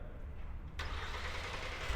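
A Kia Carnival engine starts remotely from a key fob button, a sudden crank and catch partway in that settles into a steady low idle hum.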